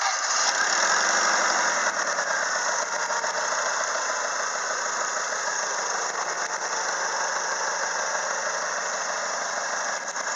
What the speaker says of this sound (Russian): Работа двигателя на холостом ходу.